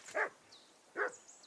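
Two sharp, close barks from a dog in Kingdom Come: Deliverance II, spaced nearly a second apart, with faint background ambience.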